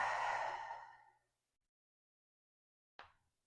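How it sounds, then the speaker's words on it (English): Slow breathing through the nose during a seated hamstring stretching session: one long, soft exhale that fades out, then silence before a short, sharp inhale. "breathing in and out through the nose"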